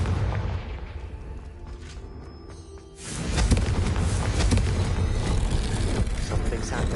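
A Confringo explosive spell blast in the video game Hogwarts Legacy: a rumbling game soundscape that swells into a loud, sustained booming burst about halfway through and keeps roaring to the end.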